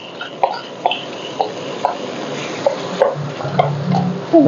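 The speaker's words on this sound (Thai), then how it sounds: "กะปิที่เราผัดมาสักครู่เนี่ยใส่ลงไปค่ะ" Pork belly with shrimp paste and long beans is stir-fried in a pan, with a low sizzle beneath a regular series of sharp spatula scrapes and clacks, close and fairly loud.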